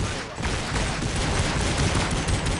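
Dense, continuous gunfire from a shooting video game: overlapping rapid shots and bursts that fill the whole stretch at steady, loud intensity, with no clear pauses.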